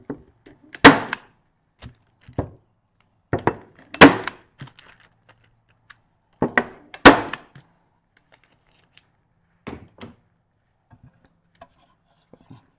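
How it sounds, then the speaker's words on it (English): A stapler fastens a scent bag to the underside of a wooden swarm trap lid, producing a handful of sharp, close snapping clacks at irregular intervals, with softer taps and handling noises between them. "I staple it to the underside of the lid"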